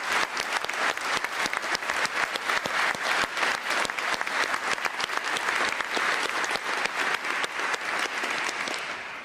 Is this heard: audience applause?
yes